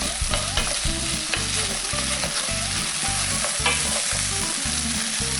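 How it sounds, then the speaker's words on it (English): Garlic stirred and frying in a pan of softened ingredients for chicken mulligatawny soup, a steady loud sizzle with a regular rhythmic scrape and clatter of the spoon against the pan throughout. "Time to go in with your garlic. Give that a mix round."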